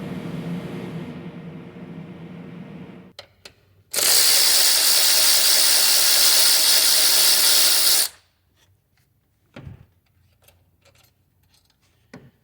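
A power tool zips transmission bolts out of a Ford Edge in one loud, sustained whirring burst of about four seconds, followed by quiet clinks of bolts and parts being set down.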